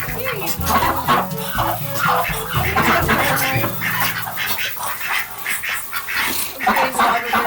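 Ducks at an animal sanctuary quack and cluck steadily in a busy, close flock, the calls overlapping continuously with a person talking faintly among them.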